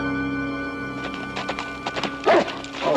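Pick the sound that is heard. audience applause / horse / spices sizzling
horse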